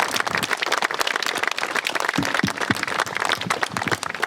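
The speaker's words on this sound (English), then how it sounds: "So I'd like to give them all a great big round of applause." A crowd at an outdoor Memorial Day program applauds uniformed personnel, with many distinct, sharp claps forming a lively, uneven patter heard fairly close.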